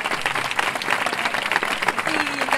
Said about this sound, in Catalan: Fort aplaudiment per a Lara.